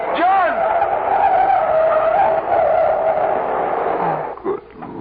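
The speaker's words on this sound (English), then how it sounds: "Farrar, look out! That truck" A truck skids as a radio-drama sound effect, a loud sustained tyre screech with a wavering roar that runs for several seconds before cutting off, with a voice briefly heard.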